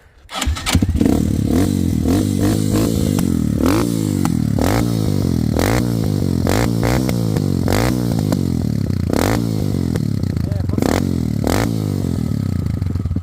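A Sparta SD200 enduro motorcycle engine revs repeatedly, rising and falling in quick bursts with sharp throttle blips over a steady, loud idle rumble.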